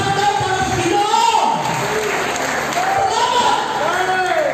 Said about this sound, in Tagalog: palakpak daw para sa Ginoo